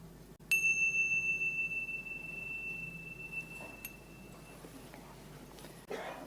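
A single clear bell or chime struck to close a mindfulness exercise in a counselling session, ringing out with a long sustained tone that slowly fades in a quiet room.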